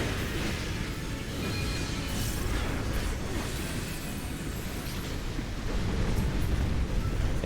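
Ancient Fire attack in Final Fantasy XIV, a loud sustained roaring blast of fiery rumble with crackling bursts throughout, steady and dense from start to finish.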